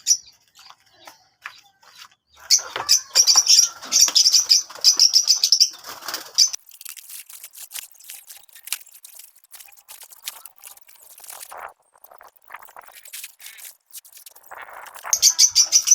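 Small caged breeder birds, parblue lovebirds among them, flap their wings hard in bursts while being caught, with short chirps and rustling close by and quieter gaps between flurries.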